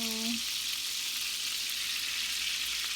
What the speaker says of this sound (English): make sure our pan is hot before we put in our lamb chops